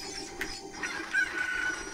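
Cucco chickens in Zelda: Ocarina of Time, faint clucking and a short squawk over a quiet ambient game background, brief and moderately close.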